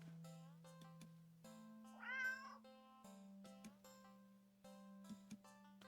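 A standard black cat in the video game Do Not Take This Cat Home gives one clear, drawn-out meow over a steady droning game music background.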